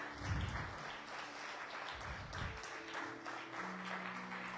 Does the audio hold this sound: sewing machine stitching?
no